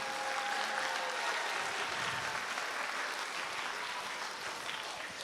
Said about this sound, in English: I think Dan deserves an enormous round of applause.